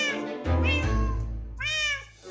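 A Minecraft cat gives two or three clear, close meows in quick succession, each rising and then falling in pitch, over a low background hum.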